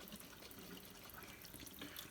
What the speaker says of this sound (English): I'm gonna fill that up again with water.